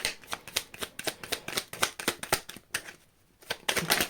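Tarot cards are shuffled in a rapid run of crisp riffling bursts. The bursts pause briefly and then start again, close by, with no voices.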